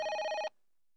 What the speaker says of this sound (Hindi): दिल्ली से फोन आया।